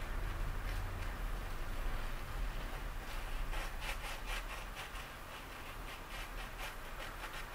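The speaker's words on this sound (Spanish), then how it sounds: "Remárquenlo como si se quisieran acabar la crayola, que quede un exceso de cera en la hoja de lija, quede bien marcado." Crayon wax is rubbed hard onto a sheet of sandpaper, giving a continuous rough scraping that shifts into a run of quick, rhythmic strokes partway through, close and fairly quiet with no voice.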